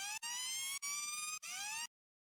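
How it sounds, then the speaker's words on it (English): A synthetic siren wails in three repeated rising bursts, bright and steady, separated by short gaps before cutting off into silence. "there's a siren FX running in the background to add even more tension"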